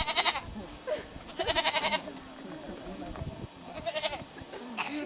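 A goat given as a gift by Maasai people bleats in several loud, wavering calls spread across a few seconds, with people talking and outdoor activity underneath.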